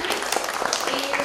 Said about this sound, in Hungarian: úgyhogy egy nagy tapsot neki